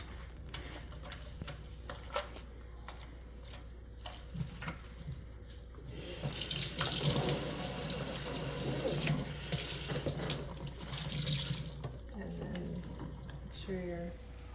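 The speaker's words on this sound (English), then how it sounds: "And then back to this sink with soapy water." Water gushes from a tap into a sink in two bursts, splashing loudly, with quieter clinks and handling sounds before and after.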